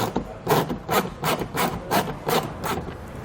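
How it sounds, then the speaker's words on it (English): Phillips head screw being backed out of plastic trim on a 2014 Honda CR-V, about eight evenly spaced rasping, grinding turns in a steady rhythm, close and fairly loud. "We'll start by taking out the Phillips head screw."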